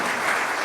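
Dense, steady clapping from a church congregation during a Spanish-language evening service, a full room applauding at once, loud and continuous.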